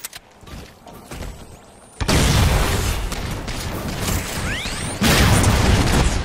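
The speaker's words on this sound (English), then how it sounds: "Nice grenade there" A grenade detonates in a Halo 4 Infinity Slayer match, two loud broadband booms landing about three seconds apart, each cutting in abruptly and trailing into sustained rumble and debris, with lighter gunfire and mechanical clicks faintly before the first.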